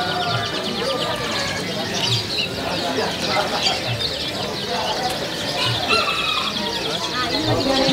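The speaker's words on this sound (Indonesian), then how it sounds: "banyak juga macamnya nih di toko kenari nih." Many canaries chirp and trill at once in a shop at Pramuka bird market, a dense chorus of bright calls over background chatter and general bustle.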